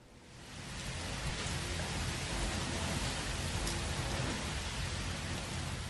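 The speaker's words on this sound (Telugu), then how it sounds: "మిరుదొట్టి మండలాల్లో వడగళ్ల వర్షం కురిసింది" A hailstorm with heavy rain and strong gusty winds in Telangana's Siddipet district makes a dense, steady roar that swells in at the start and holds without a break.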